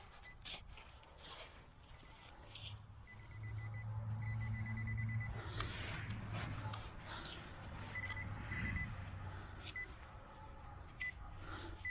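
A metal detector sweeping a beach sounds its coin signal as a few short electronic tones, with a louder steady hum and scraping rising in the middle, and faint background noise throughout.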